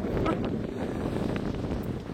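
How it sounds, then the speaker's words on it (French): Strong storm wind gusting through a park in Isère during a major storm, a steady loud roar close to the microphone with buffeting throughout. "Oh là, le bruit du vent là-bas."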